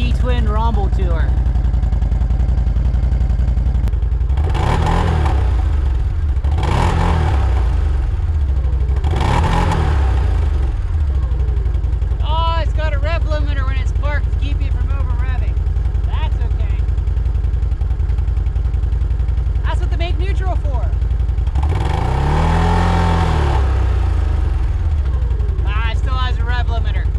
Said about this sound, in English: Pretty quiet and idle, but she's got that nice healthy V-twin rumble to her.